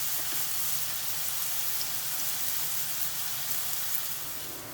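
Porcini mushrooms browning in a hot pan give a soft, steady, even sizzle like light rain, with no talking over it.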